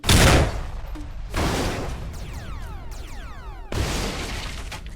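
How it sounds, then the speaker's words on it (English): China Lake grenade launcher rounds fired in the Space Station 14 game, three sharp blasts spaced about a second and a half apart, each a loud broadband burst that decays into ringing debris and shattering tails. "Three perfect China Lake rounds launched into the entire crew of the Death Squad members"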